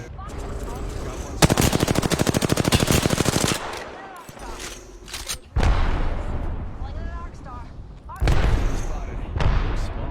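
Rapid automatic gunfire in an online shooter game, a dense burst of fast shots followed by further heavy bursts and booms, with players talking over the action.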